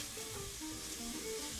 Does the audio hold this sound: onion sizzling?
yes